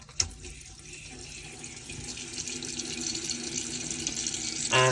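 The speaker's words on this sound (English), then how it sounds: "Come over to the sink and just draw the water through on the cold side." Water runs from the cold tap of the sink in a 2015 Hymer B588 motorhome, beginning with a splash and flowing steadily and close, with a sharper gush at the very end.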